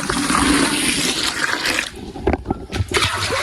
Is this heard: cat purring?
no